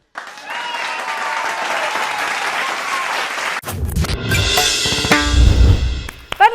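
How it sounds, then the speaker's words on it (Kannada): Audience applause for singer Prathap at a singing reality show, steady clapping through the first half, then a louder, busier stretch of cheering crowd noise with clapping continuing near the end. "ಬನ್ನಿ, ಜೋರಾದ ಚಪ್ಪಾಳೆ ನಮ್ಮ ಪ್ರತಾಪ್ ಕೊಲ್ಟೂರ್ ಅವ್ರಿಗೆ."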